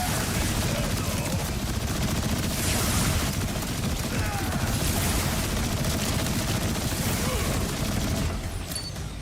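Rockets and rapid gunfire fill a Borderlands 4 boss fight, a loud dense barrage of shots and booming blasts running almost continuously, with a voice breaking in at times.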